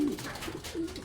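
Pigeons coo softly at their loft, a few low throaty calls close by and fairly quiet.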